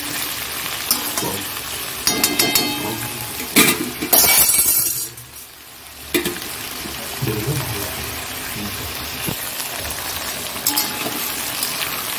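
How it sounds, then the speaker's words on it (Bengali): Pointed gourd frying in hot oil as potatoes are tipped into the pan: loud crackling sizzle, clinks of utensils and a sharp burst as the potatoes hit, then steady frying with stirring. "পটলটা লাল করে ভেজে নিয়েছি, এবার আলুগুলো দিয়ে দেবো।"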